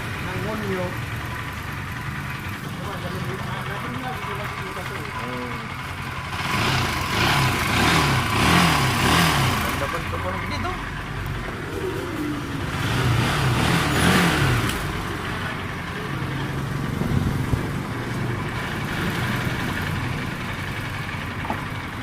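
A repaired Bajaj Rouser NS200 motorcycle engine runs steadily near by, swelling into two longer revs midway before settling back, with someone talking over it.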